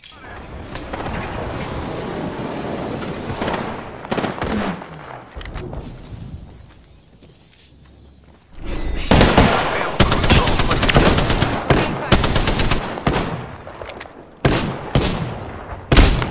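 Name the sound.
gunfire in the video game Apex Legends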